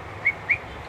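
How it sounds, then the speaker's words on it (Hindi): Two short, thin whistle blasts sound in quick succession, faint against a steady background hiss at a German Shepherd kennel; no one speaks. "सीटी बजाइए पीछे से"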